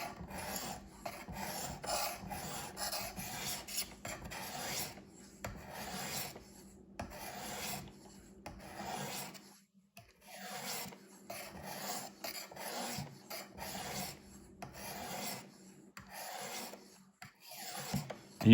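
A knife blade is drawn over the abrasive of a Work Sharp Precision Sharpener in steady repeated rasping strokes, each a short scrape with brief gaps between. Close and moderately loud, with no talking.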